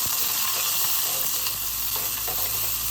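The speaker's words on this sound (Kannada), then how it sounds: "ನೆಕ್ಸ್ಟ್ ಒಂದು ಈರುಳ್ಳಿ ಕಟ್ ಮಾಡಿರೋದು ಹಾಕಿದ್ದೀನಿ." Cut onion added to hot oil for pressure-cooker tomato rice sizzles in a steady, close hiss with faint stirring, continuous and without voices.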